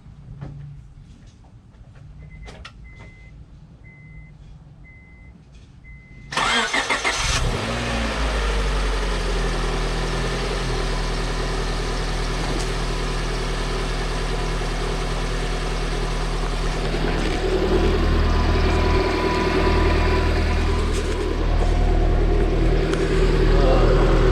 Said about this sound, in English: See if it cranks up.